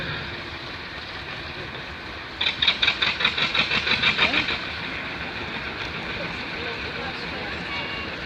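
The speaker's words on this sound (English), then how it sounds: "It's powered by an Ailsa Craig engine" Ailsa Craig engined narrow gauge industrial locomotive, formerly of a cement works, running at a rail gala: a steady mid-pitched diesel engine drone with a burst of rapid rhythmic clattering pulses partway through, fairly close under background ambience.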